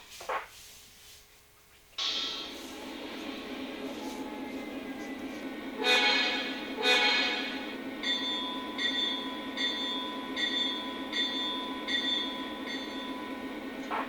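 A Lionel Legacy SD38 model diesel locomotive starts up with a sudden sound, settling into a steady engine drone with bursts of hissing. Repeated short horn-like toots follow as a layered pattern while it idles close by.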